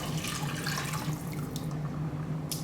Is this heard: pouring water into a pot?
yes